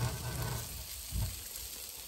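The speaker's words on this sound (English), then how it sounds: "Okay, so let's fry that one." A sausage roll sizzles steadily in a frying pan, a soft continuous crackle with a brief louder spatter midway, close and alone without talk.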